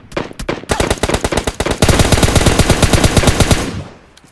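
Loud, close automatic gunfire in PUBG Mobile, a few short bursts building into a long sustained stream of rapid shots that then stops.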